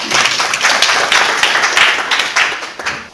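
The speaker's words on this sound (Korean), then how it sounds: "큰 박수로 모시겠습니다." Applause from a seminar audience welcoming a bank consultant to a panel discussion, steady dense clapping from many hands held at a fairly loud level throughout.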